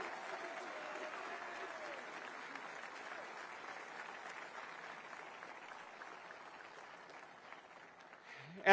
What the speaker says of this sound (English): Let's give a round of applause to the incredible job they did.